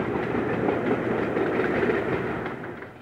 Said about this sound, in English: ScotRail's super sprinters to speed you on your way.